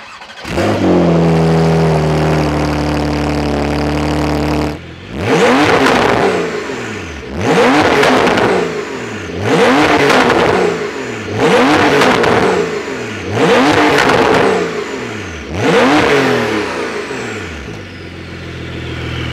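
A 630 bhp Porsche 992 Carrera GTS engine fires up with a loud rumble, then revs hard several times in steady bursts before settling back toward idle.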